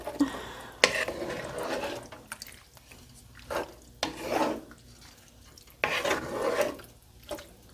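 Irregular scraping and swishing strokes of a spoon stirring seasoned ingredients for Mexican chicken lasagna in a pot, close by, in uneven bursts with brief pauses and no talking.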